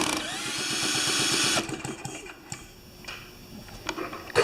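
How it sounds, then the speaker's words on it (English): A power drill whirs steadily for over a second, then cuts off, leaving intermittent clicks, ticks and faint mechanical rattles. "Watch when the drill stops."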